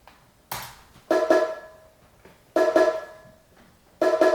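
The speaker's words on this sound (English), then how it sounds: "It's kind of like a bongo section." Pairs of resonant, bongo-like drum hits ring out alone in a sparse, repeating rhythm, each double strike decaying quickly before the next.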